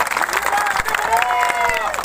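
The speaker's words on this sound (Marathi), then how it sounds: "त्याच्या सगळ्या नावानं आपण टाळ्या वाजल्या पाहिजे" Applause and cheering from a crowd at a political victory gathering for a newly elected MLA, a dense burst of clapping mixed with voices for about two seconds.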